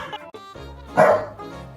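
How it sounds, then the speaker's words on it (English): A dog gives a short run of yips and whimpers, then one louder bark near the middle, close by and fairly loud. "What does the dog say?"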